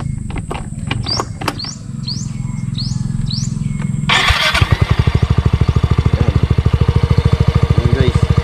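A motorcycle fitted with a DIY spinner starts up after a few high chirps and then runs steadily, its engine producing a close, loud, regular pulsing throb.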